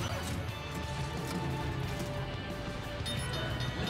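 A car crashes into a fuel pump in the video game Watch Dogs, a smashing impact amid steady driving noise and game sound, fairly quiet overall.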